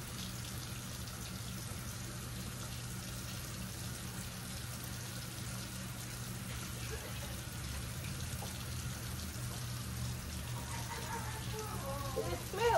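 Tap water runs steadily during hair washing, a constant gushing spray heard under a low hum, with faint splashes and a brief rise near the end.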